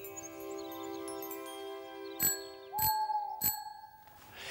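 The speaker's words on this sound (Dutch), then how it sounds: "En toen hoorden we een fietsbel bellen" Bicycle bell rung three times in quick succession, bright metallic dings over a quiet background with a sustained tonal hum.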